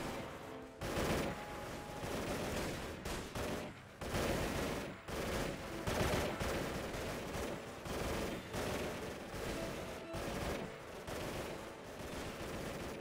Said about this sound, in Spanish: estamos disparando algo, pero ni siquiera sé a dónde